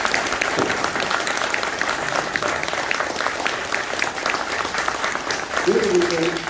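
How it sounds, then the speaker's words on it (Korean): A crowd at a meeting at the Cheongdo disabled welfare center applauds a National Assembly member with an even, sustained round of clapping, and a voice speaks near the end as it continues. "우리 이말 국회의원께 박수 한번 보내주시고요"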